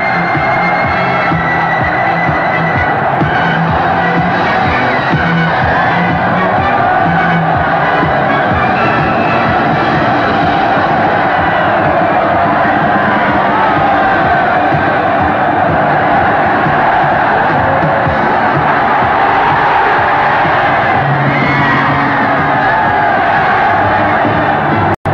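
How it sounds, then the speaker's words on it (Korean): A huge stadium crowd roars at a 1982 Korea University rugby match, a sustained, loud wall of cheering and shouting that swells and rolls continuously, dense and distant-sounding like a packed grandstand. "지축을 박차는 함성"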